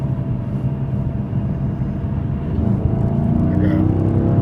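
2006 Chrysler 300C SRT8 engine holding about 3,000 RPM while driving, a steady low droning hum heard from inside the car that swells slightly toward the end, with faint talk.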